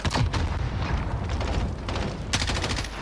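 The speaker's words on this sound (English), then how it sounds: "Shoot a rocket in one of those windows" Rocket blasts and gunfire in an online multiplayer shooter game, a dense, loud rumble of booming explosions and rapid shots, steady throughout with a sharper burst near the end.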